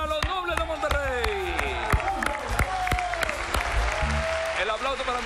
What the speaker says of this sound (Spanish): El aplauso para los nobles de Monterrey